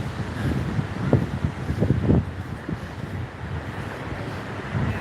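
Wind blows at Cabana Beach, rumbling against the microphone at moderate level with a few brief gusty bursts, while surf may sound faintly in the background.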